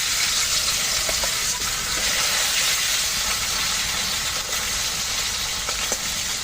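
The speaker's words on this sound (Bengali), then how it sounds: "এখন আমি মাছগুলো রান্না করব। তার আগে প্রথমে ভেজে নিচ্ছি" Shing and tengra fish fry in hot oil with turmeric, giving a loud, dense, continuous sizzling hiss with faint crackles and no voices.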